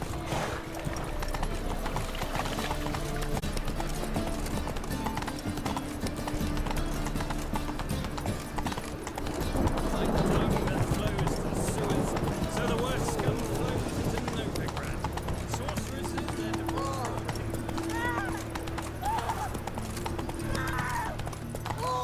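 Roach, Geralt's horse in The Witcher 3, gallops with continuous rapid hoofbeats and an occasional snort or neigh, mixed with game music and spoken voices throughout.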